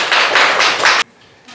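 Children clapping hands together in a classroom, a short burst of rhythmic claps in pulses, close and fairly loud, ending abruptly into near silence.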